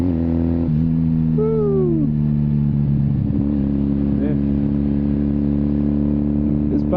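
A 1981 Kawasaki KZ440 motorcycle engine droning loudly and steadily up close, with a rising and falling pitch sweep early on as the bike revs, and a brief excited voice exclaiming over it.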